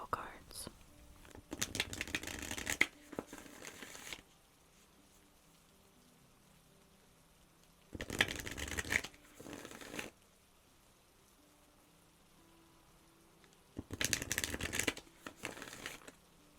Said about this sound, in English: Next, I'm going to pull some Moon Oracle cards.